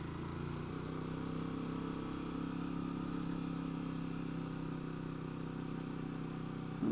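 A Royal Enfield 450 Guerrilla motorcycle rides along narrow local lanes, its engine humming in a steady, fairly quiet drone that holds an even pitch for the whole stretch.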